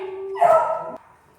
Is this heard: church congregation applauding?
no